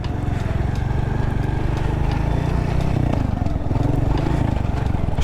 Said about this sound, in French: Je trouve que la moto elle pète beaucoup.